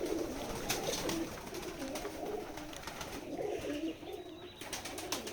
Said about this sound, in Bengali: এটা হচ্ছে আমাদের কবুতরের খামার।